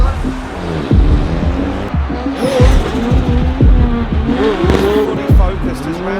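A drift car at a DM Spain drift competition launches from the start line, its engine revving hard and bouncing off the limiter with squealing tires, loud and close, while a commentator talks over it.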